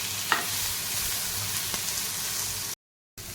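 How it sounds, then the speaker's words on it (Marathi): Cashews and tomatoes sautéed with onions in a pan, a steady close sizzle with occasional stirring scrapes, loud and continuous until a brief cut near the end. "आता काजू आणि टोमॅटो हे दोन्ही पण आपण कांद्यासोबत छान भाजून घेऊया परतून घेऊया"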